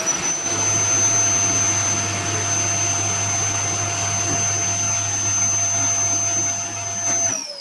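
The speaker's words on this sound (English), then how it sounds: "that's the way the air goes in a vacuum cleaner" A vacuum cleaner runs steadily with a loud, constant motor drone and high whine, starting just after the clip begins and cutting off near the end.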